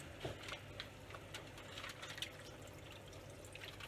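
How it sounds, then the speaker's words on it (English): Venison juices are poured into a bubbling redcurrant sauce, giving a faint trickle with a few soft drips and small splashes in a quiet kitchen. "So in go the juices."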